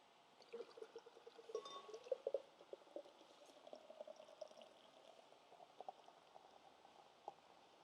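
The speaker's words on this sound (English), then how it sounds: "Let's see how it pours." Ruby Chocolate Nitro Stout pours quietly into a glass with a soft, steady fizzing hiss and faint gurgles, close by, with no talk.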